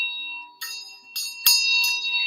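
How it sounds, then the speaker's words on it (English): Hand bell rung in a few separate shakes, each a bright metallic clang with a shimmering ring that lingers and overlaps the next strike, close and clear with no talking. "Ring that bell, okay?"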